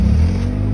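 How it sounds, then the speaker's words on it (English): A roofless Honda Civic's engine hums loud and close, a steady low rumble through the short stretch without a clear rise in revs. "fucking fire it back up. Rev it up a little bit."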